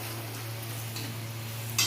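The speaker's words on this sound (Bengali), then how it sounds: "হলুদটা একটু ভাজা ভাজা করে নেব।" Turmeric frying in hot oil with panch phoron, green chilli and cumin makes a continuous gentle sizzle over a low hum, and a sharper hiss bursts in right at the end.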